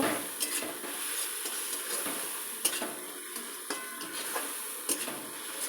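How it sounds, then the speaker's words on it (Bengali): Spices sizzle and fry in hot oil in a pan for a pointed gourd and potato curry, with a steady crackle broken by frequent spatula scrapes and clinks against the pot. No one speaks. "মশলাটাকে কষিয়ে নেব যখন তেল ছাড়বে তখন পটলগুলো আর আলুগুলো দিব"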